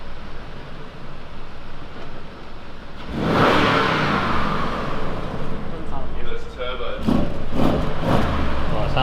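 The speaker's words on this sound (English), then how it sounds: "Give it a little rev." A large Bentley car parked for a photoshoot idles, then gives a single loud rev that swells and settles back to a low rumble. People talk nearby.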